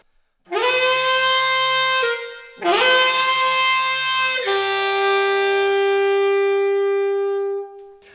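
A saxophone swoops upward with a glissando into long, rich held notes with a hummed, buzzing growl, played in two bursts and then one sustained tone fading out.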